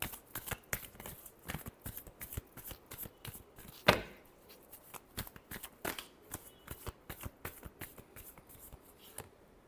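Tarot cards shuffled by hand in quick, repeated riffling flicks, a rapid rhythmic patter of card snaps with one sharper slap partway through, close and clear with no talk.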